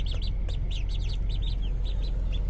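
Ducklings in a brooder give a flurry of rapid, high chirping peeps, many overlapping calls close by, above a steady low hum of background noise.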